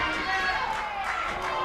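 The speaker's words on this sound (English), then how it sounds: "Listen to this crowd." Crowd at a live indie wrestling show in Azusa, California, cheering and roaring in a steady, dense wash of voices throughout, with no clear individual words standing out.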